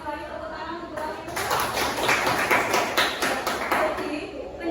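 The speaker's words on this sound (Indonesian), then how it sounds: "Tepuk tangan untuk Wahyu." Classroom applause for a student, a burst of clapping from a group of pupils that starts after a second and carries on fairly evenly to the end, moderately loud in a room.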